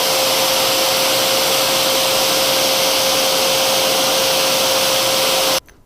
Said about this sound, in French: je vais faire tourner avec un chiffon humide ici